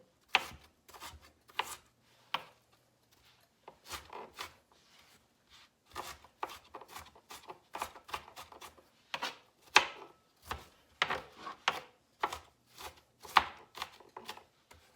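A knife chops rapidly against a cutting board in uneven bursts of sharp taps, close and clear, with short pauses between runs.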